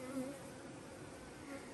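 Honey bees fanning their wings at a crowded hive entrance to cool the colony and dry honey, giving a steady, close, continuous buzzing drone with a slight wavering hum and no talking.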